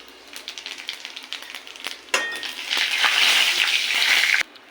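Cumin seeds hit hot oil and burst into a loud, bright sizzle that holds steady for about two seconds before cutting off, following quieter crackling frying with a bay leaf and cardamom.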